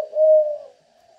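A young spotted dove, its neck collar not yet fully grown, gives a single smooth, low coo that swells, holds for a moment, then fades into a faint trailing note, close and clear with no other sounds.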